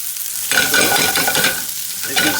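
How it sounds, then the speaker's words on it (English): Spiced lamb for shakshuka fries in a hot pan with a loud, close sizzle broken by quick stirring and scraping strokes, and no voices. "I'm just really trying to cook this off. I want to get a little bit of colour onto it."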